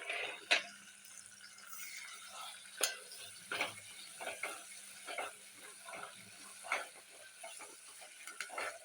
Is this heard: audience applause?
no